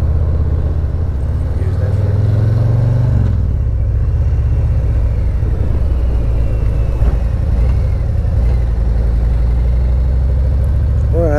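A motorcycle engine idles with a loud, close, continuous low rumble while the rider pulls over, its pitch dipping as the throttle eases around the middle, with talk faintly mixed in.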